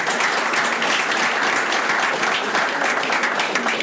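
Dense, sustained applause from a panel discussion audience, many hands clapping at once, loud and close, filling the whole stretch without any talk over it.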